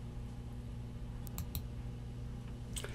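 A few sparse, sharp clicks from a computer keyboard being typed on, heard close over a steady low electrical hum.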